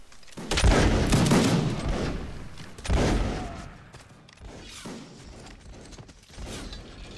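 Musket volley fire in the video game Mount and Musket: loud, crackling bursts of massed shots, a heavy rolling volley near the start, another around three seconds in, then scattered distant shots.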